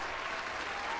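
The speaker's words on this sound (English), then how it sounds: "here comes the fake applause" A burst of canned studio applause, dense and steady throughout, with a crowd of hands clapping at moderate loudness behind a faint voice.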